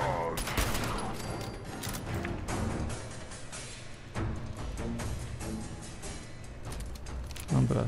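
Rapid bursts of gunfire in Fallout 4 crackle continuously, dense and steady, with a voice talking over the shooting.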